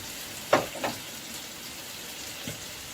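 Ginger chicken dropped into hot oil, a sharp burst of sizzling followed by a softer crackle and a later brief flare, settling into a low steady fry.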